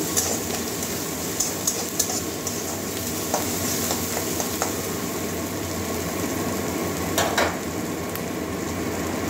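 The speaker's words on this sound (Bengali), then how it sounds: "এবারে আদা রসুনের কাঁচা গন্ধ যাওয়া পর্যন্ত ভাজবো।" Ginger-garlic paste fries in hot oil in a pan for a rohu fish curry with water spinach, with a steady sizzle and repeated scraping strokes of a spatula stirring it, close and continuous.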